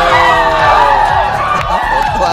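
Basketball arena crowd roaring and cheering continuously at loud level, with shouts and whoops rising over a dense wall of noise and voices mixed throughout.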